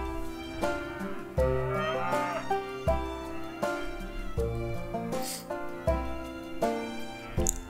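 Cattle mooing on a farm in the Switch game Farm Tycoon, heard as repeated low calls over steady looping game music, with no talk over them.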